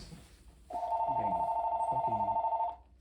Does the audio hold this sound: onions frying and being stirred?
no